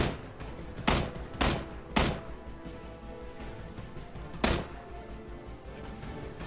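Gunfire in the video game PUBG: a few sharp, loud single shots spaced apart over a steady low background, one after another and then a final crack after a pause.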